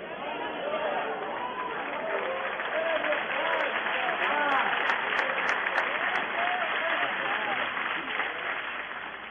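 A church congregation applauds during a sermon, a broad, steady wash of clapping from many hands with murmured voices beneath, heard at some distance and holding evenly for several seconds.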